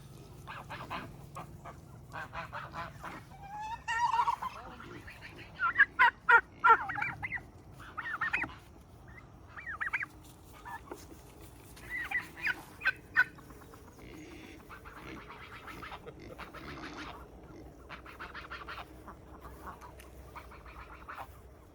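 Geese honk and ducks quack in bursts of loud calls over a steady farmyard background, some calls close, others farther off.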